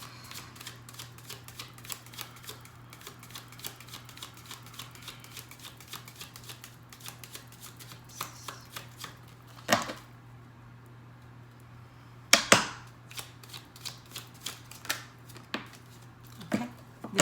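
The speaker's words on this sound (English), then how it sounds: "You can fast forward the shuffling if it's too long for you" Tarot cards being shuffled by hand, a soft continuous riffling and slapping with a few sharper card taps near the end, close and moderately quiet over a steady low hum.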